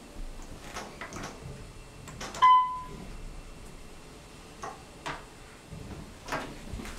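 An Otis hydraulic elevator's door closes at a building's ground floor, with a loud clunk and a short beep followed by scattered knocks and rattles in a quiet space.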